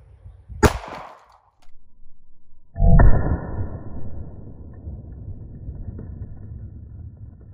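A 9mm pistol is fired at a household clothes iron, giving a sharp crack early on, then a louder blast followed by a long rumbling decay outdoors.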